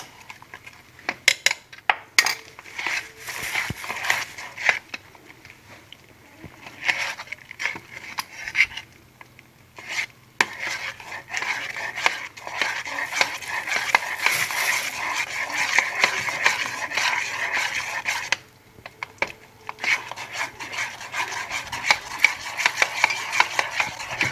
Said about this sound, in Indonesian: lalu diaduk rata.